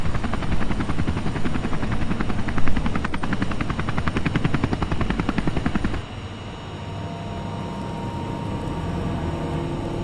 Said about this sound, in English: The helicopter cannot evacuate you while the rotor is running.